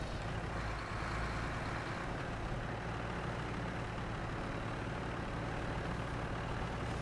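A truck straining to pull another stuck truck free in the Snow Runner video game: a loud, steady engine roar with a constant low rumble and no pauses, alone without talk.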